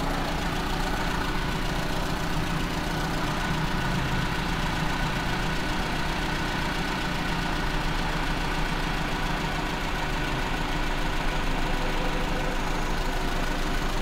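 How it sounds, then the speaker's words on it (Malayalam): A Maruti Zen's carbureted petrol engine idles steadily at close range after carburetor tuning, a continuous even rumble with a faint knocking texture and no pauses or revving. "നമുക്ക് ആ പൊസിഷനിൽ ഐഡിൽ ആർ പി എം ഒന്നുകൂടെ സെറ്റ് ചെയ്യാം."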